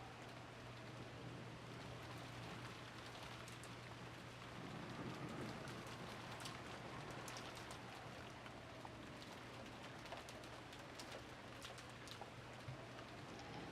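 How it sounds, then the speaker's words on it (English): Steady rain pours down in an even, dense hiss throughout, with a faint low rumble beneath, like a night downpour over a rose garden and guest house in the visual novel Umineko. "disappeared beneath the sound of the rain"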